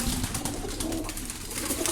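Pigeons coo softly in a loft of varied fancy breeds, a low, rolling, repeated murmur that carries steadily through the short stretch among other bird noise.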